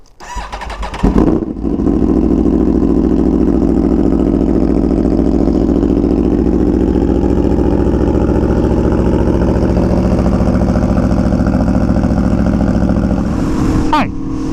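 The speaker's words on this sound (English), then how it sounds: "2017 Aprilia Tuono V4 1100 factory cold start with an SC Project CRT exhaust" A 2017 Aprilia Tuono V4 1100 Factory with an SC Project CRT exhaust fires up from cold after a brief crank, then settles into a loud, steady, throbbing high idle that holds for the rest of the clip, close to the bike.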